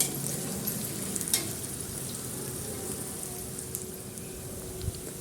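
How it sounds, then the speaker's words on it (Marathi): Chopped onion sautéing in a little oil in a pan, a steady close sizzle and crackle with a few scraping stirs, heard alone without talk. "त्यामध्ये कापलेला कांदा आपण परतून घेणार आहोत।"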